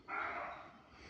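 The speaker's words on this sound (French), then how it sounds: "C'est l'aboiement du chevreuil." Roe deer giving a single short, hoarse alarm bark in woodland, faint and somewhat distant.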